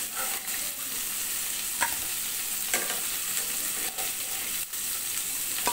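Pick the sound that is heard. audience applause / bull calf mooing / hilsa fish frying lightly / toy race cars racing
hilsa fish frying lightly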